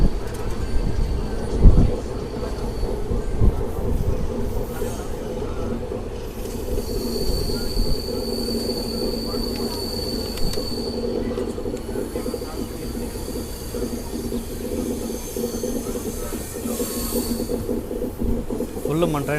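The Bokaro Express rounds a curve just past a bridge, its wheels squealing in long, steady high tones over a continuous loud rumble of the carriages rolling on the rails.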